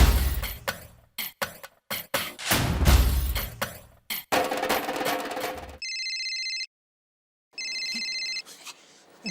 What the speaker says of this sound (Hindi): बबीता जी का फोन